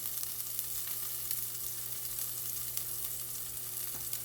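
Garlic sizzles steadily in a non-stick pan, a continuous close frying hiss with faint stirring, no voices over it.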